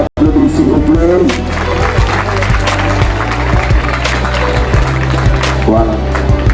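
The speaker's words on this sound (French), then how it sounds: "On peut applaudir s'il vous plaît." An audience applauds at a school quiz competition award ceremony as a prize is presented by the governor. The clapping is loud and continuous with crowd noise, and voices are heard over it.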